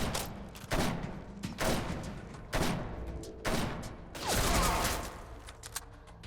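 Weapon gunfire in the third-person shooter The Scourge Project, roughly five separate loud bursts at uneven intervals, each a sharp blast with a short decaying tail, close and prominent.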